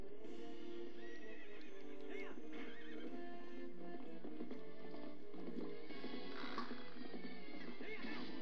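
Epona, the horse in the video game Zelda Twilight Princess, whinnies and neighs repeatedly over clip-clopping hooves. The game sound is continuous and fairly faint.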